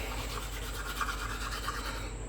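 A toothbrush scrubbing teeth at close range, a steady rapid back-and-forth bristle rasp in a quiet room, continuous and fairly soft with no speech.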